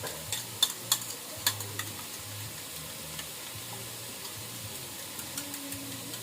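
Egg cooking in a pan with half-cooked cabbage, a soft continuous sizzle with scattered sharp clicks and scraping taps from stirring, fairly quiet and without talk.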